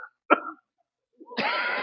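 A man at a kirtan imitates coughing with a short, sharp cough burst, a pause, then a longer rough, voiced hack close by.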